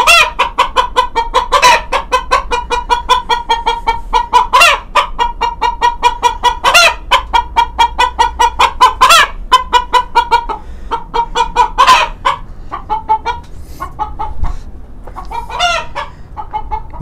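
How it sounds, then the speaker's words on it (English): A Salmon Faverolles hen cackles after laying an egg: loud, close, repeated clucking bursts with sharp squawks at regular intervals, trailing off into quieter clucks near the end. "as you can tell by her cackling, she just laid an egg"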